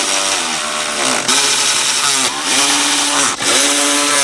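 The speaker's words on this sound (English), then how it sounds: "Put back your 4 T30 screws" Power driver running in four T30 screws on a BMW G30 bumper during a facelift kit install: a loud, steady motor whine in several sustained runs, each briefly interrupted as the pitch drops, very close with no talk.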